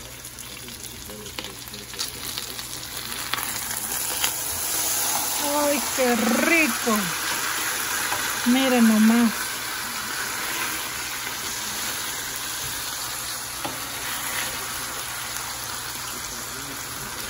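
A rib eye steak frying in a pan on medium-high heat gives a continuous crackling sizzle, close and steady beneath a voice speaking briefly in the middle.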